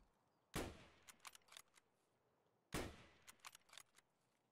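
Two sharp gunshots ring out in Escape From Tarkov, each a loud crack trailed by a brief scatter of smaller clicks and echoes, spaced about two seconds apart with no talk.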